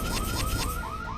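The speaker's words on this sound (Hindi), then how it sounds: "ये सिक्योरिटी अलार्म क्यों बज रहा है?" An electronic security alarm on a bank locker shrills in repeating rising sweeps, about five cycles in quick succession, loud and continuous with no voices over it.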